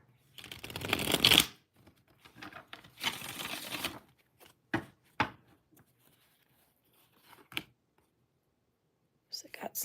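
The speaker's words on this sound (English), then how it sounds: "I didn't mean to mix up my deck." A deck of tarot or oracle cards being shuffled in several bursts, with a long riffling stretch, a second shorter run, then scattered quieter card flicks and taps, close and fairly soft.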